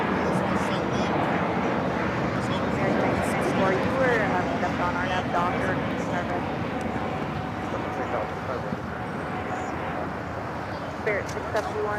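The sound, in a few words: Spirit Airlines Airbus A320neo jet aircraft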